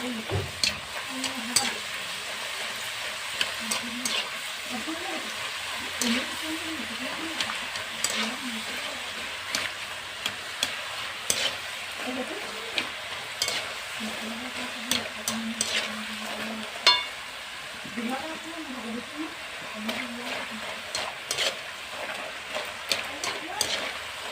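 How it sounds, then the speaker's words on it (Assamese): Nimki frying in hot oil, a steady bubbling sizzle with occasional stirring clatter, while a voice talks over it throughout. "এনেধৰণে আমি গোটেইখিনি নিমকি এনেদৰে ফ্ৰাই কৰি ল'ম তেলত"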